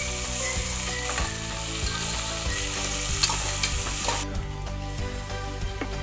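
Onions fry in a pan for a Tamil egg kuruma as a loud, close sizzle, with repeated scraping strokes of stirring in an uneven rhythm and no voices.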